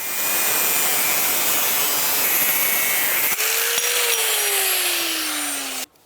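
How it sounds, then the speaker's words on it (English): Angle grinder smoothing the heads of old cut-off rivets on a Yamaha snowmobile exhaust: a steady, loud abrasive hiss and whine, close by, that drops in pitch partway through and stops abruptly just before the end. "We've just taken a grinder and we've smoothed out the head of these old rivets that we had cut off or drilled out"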